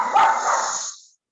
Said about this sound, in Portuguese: começou a cachorrada de novo